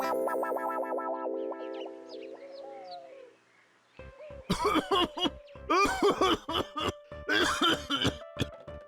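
A man gives a dry cough in a burst of short, sharp, repeated hacks after a stretch of musical tones fades out, the coughs coming close and loud in uneven clusters.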